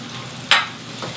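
Salt fish cooks in a pan with pepper, a steady close sizzle with one sharp scrape or spatter burst midway, no voices.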